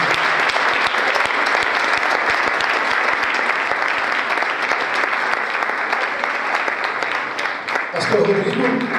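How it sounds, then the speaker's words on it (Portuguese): Steady, dense applause from a church congregation at a Christian community service, continuous clapping for most of the stretch before a voice cuts in over it near the end. "Você pode aplaudir Jesus pela vida do céu e do Senhor."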